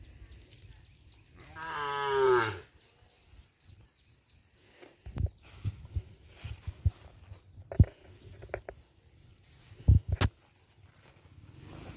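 A water buffalo being led down to drink gives one long, loud, low moo close by, then hooves splash and thud through water with scattered knocks and rustles around it.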